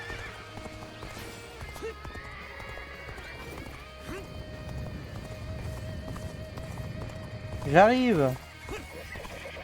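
In the video game Dynasty Warriors Origins, a horse's hooves clatter along as a player speaks briefly, then the horse lets out a loud, shrill whinny near the end over the game's ambient sound.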